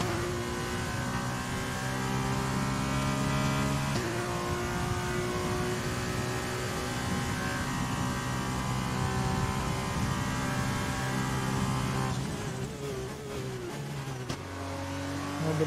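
Simulated Formula 1 car engine in the F1 2020 racing game, a steady high-pitched whine held for long stretches with abrupt pitch drops as it downshifts near the end, loud and without talk.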